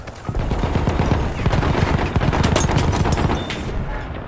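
Sustained automatic gunfire from a support weapon fired from the hip in Battlefield 1, a rapid, loud, continuous burst of shots close by with no talking.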